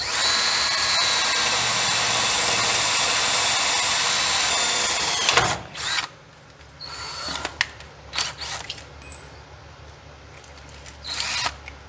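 A power drill bores a small pilot hole in metal while a rack-and-pinion system is fabricated for a 1940 Chevy coupe. It gives a loud, steady whine for about five seconds, then stops, and scattered clanks and handling noises follow.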